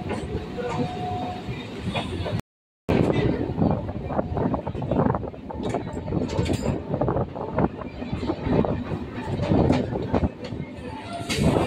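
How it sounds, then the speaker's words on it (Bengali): A local train pulls out of Ahiritola station, its wheels and carriages rumbling and rattling steadily in a dense, continuous clatter with a brief dropout near the start. "ট্রেন এখন শোভাবাজার আহিরিটলা স্টেশন ছেড়ে বেরিয়ে যাচ্ছে।"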